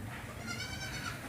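A goat at the Bakra Mandi livestock market in Karachi bleats in one drawn-out, wavering call, loud and close against a dense crowd-and-market din.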